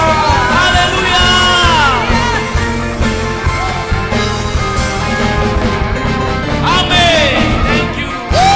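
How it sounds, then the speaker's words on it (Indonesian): A church congregation at a Sunday worship service cheers loudly, with shouts, whoops and excited voices rising together in a sustained, lively roar that swells again near the end. "Berikan sorak-sorai yang meriah Tuhan Yesus Kristus."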